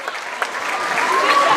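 A big crowd at a high school basketball game gives sustained applause for the school dance team, steady clapping building slightly over a brief moment.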